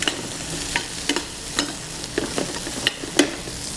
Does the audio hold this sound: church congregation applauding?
no